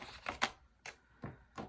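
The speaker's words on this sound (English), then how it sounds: "I'm going to use my scissors because I think that's going to be better." A few crisp snips of scissors cutting through paper, close and fairly quiet, spaced unevenly.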